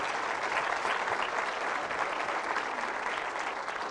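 A church congregation at a Spanish-language Catholic service led by a priest breaks into loud, sustained applause, dense and even throughout, with no voices rising above it.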